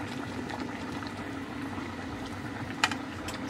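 A camping cookpot of meat stew with ribs bubbles at a steady simmer, a continuous soft boiling hiss and gurgle heard up close with no talking.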